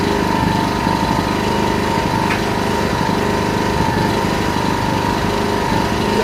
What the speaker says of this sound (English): you might hear the engine kick in and go higher